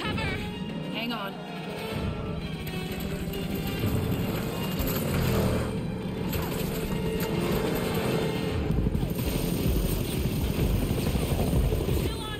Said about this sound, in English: Of course they have a helicopter.